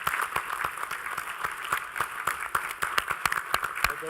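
Sparse applause at a veterans and military families summit, individual claps picked out clearly in an uneven rhythm, moderately distant and without talk.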